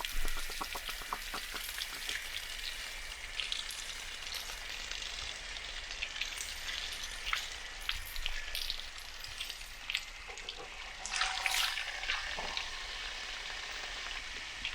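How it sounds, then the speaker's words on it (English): Water drains from an RV hot water tank with the plug backed off, a steady sizzling, splashing hiss like rain on a hard surface, continuous and moderately close, with occasional louder spatters and no voices. "you'll see that there's a whole hot water tank worth of water that comes out of there."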